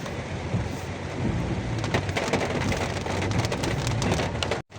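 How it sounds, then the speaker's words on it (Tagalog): Heavy rain pours down in a dense, continuous hiss with scattered louder drops hitting a surface close by, steady and loud throughout before a brief dropout at the very end. "Grabe ang ulan. Grabe ang ulan mga boss."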